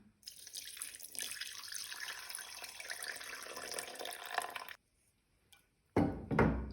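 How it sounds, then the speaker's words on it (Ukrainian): Water runs steadily from a tap for several seconds into rye sourdough starter for Darnytskyi bread, then stops, followed by a brief quiet and a short clatter. "Добавляємо воду по рецепту."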